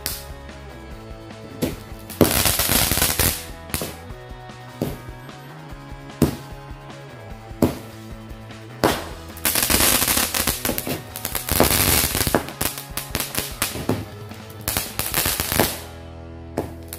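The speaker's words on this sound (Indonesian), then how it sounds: "Sekarang kita lanjut menyalakan mercon Cobra Jumbo." Cobra Jumbo firecracker cake firing 19 shots: a rapid, uneven string of loud, sharp bangs and crackles, some close together and some spaced out, outdoors with no talking.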